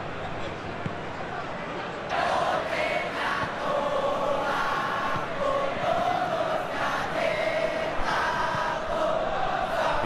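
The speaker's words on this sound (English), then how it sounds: "Well, the crowd clearly liked what they just saw" Crowd cheering and roaring in a football video game, a broad continuous swell of stadium noise that rises sharply after a couple of seconds and stays loud throughout, with commentary over it.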